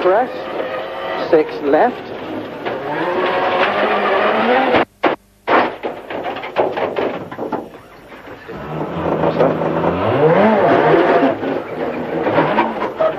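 Rally cars at full throttle on a special stage of Rally Sweden 2004, engines rising and falling through gear changes with a brief cut-out mid-run, loud and close under continuous commentary.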